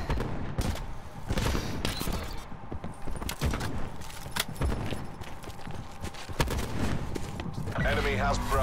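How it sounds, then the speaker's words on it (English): Sniper rifle shots ring out in a video game firefight, sharp reports scattered through a dense, constant wash of other gunfire, impacts and game noise, with a voice talking over the action. "Sniper firing."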